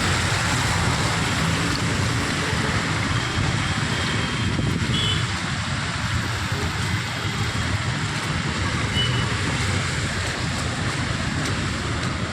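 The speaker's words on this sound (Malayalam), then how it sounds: "തൃശ്ശൂരിൽ ഭയങ്കര മഴ" Heavy rain pours down on a city street near a temple gateway in Thrissur, a dense, steady, fairly close hiss that continues unbroken throughout with no one speaking.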